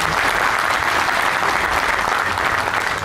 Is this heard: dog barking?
no